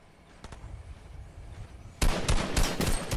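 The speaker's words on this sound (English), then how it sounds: "Oh, he's shooting at me." Rapid bursts of gunfire in the Fortnite video game, faint crackling at first, then a dense, loud volley of overlapping shots filling the second half.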